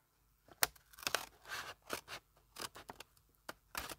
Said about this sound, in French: Et là, je viens couper.